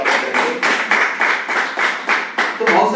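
A crowd at a product launch event for an air ioniser purifier claps loudly in a pulsing, rhythmic rise and fall of applause, close and full, with voices mixed in.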